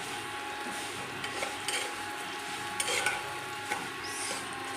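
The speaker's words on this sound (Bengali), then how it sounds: "সেমাইগুলো আমি লাল লাল করে ভেজে নেব।" Vermicelli (semai) frying in a pan, a quiet steady sizzle with light scraping and stirring taps of a utensil, no speech.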